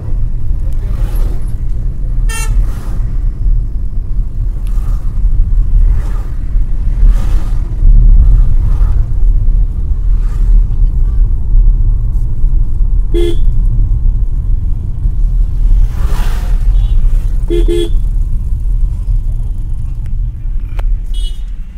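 Heavy traffic on a congested single-lane highway between Mandi and Sundernagar in Himachal Pradesh: a constant low engine rumble with short car horn toots scattered throughout, loud and close.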